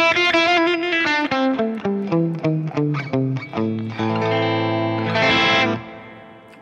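Guitar played through its piezo pickup into a distorted tone on a NUX MG30 multi-effects unit, with a run of picked notes stepping down and then a sustained chord ringing out, loud and close, with no voices.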